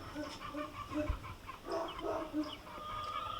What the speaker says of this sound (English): Oh, there's a chicken on the swing.